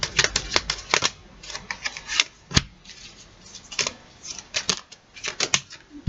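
Tarot cards are shuffled and drawn one by one, giving quick crisp flicks and snaps in irregular bursts with short pauses between, close and fairly sharp.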